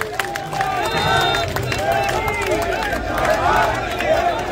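An audience at a BJP political ceremony cheers and claps in a loud crowd roar, shouts and chants rising and falling over steady applause throughout.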